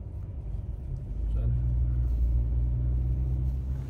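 A car being driven, with a low steady engine rumble that swells a little and then holds, heard close beneath people talking.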